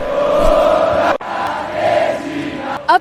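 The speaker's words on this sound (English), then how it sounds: "I'm legally part of this crowd now." A football fan crowd at an Argentina vs England World Cup final roars and chants in a dense, loud wash of voices, broken by a brief dropout partway through.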